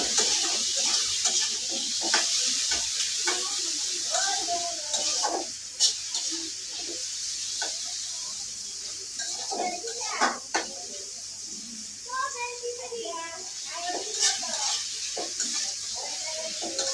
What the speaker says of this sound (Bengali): এদিকে আমি পেঁয়াজ ভালো করে ভেজে